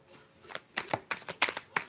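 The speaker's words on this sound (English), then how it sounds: "Let's shuffle again" Cards being shuffled up close: a series of crisp riffling bursts in quick succession, fairly quiet, with no talking.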